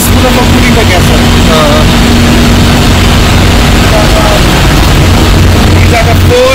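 Ship's engine room machinery running, a loud continuous low rumble and drone with a steady hum and broadband mechanical noise throughout.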